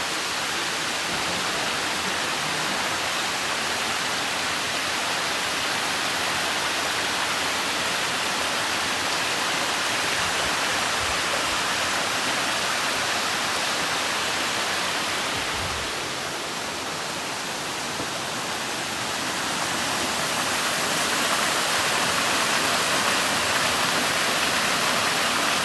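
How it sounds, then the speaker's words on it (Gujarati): A mountain stream waterfall flows on an old stone-step trekking trail near Junagadh. It makes a loud, steady rush of water that continues unbroken, easing slightly for a moment before returning at full strength. "તમે ખાલી ઝરણાનો અવાજ સાંભળો."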